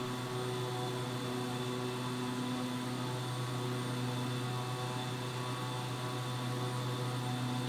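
Steady drone of a Beechcraft 1900D turboprop in flight just after departure, with strong tonal propeller hum and broadband engine roar held constant and loud throughout, no voices.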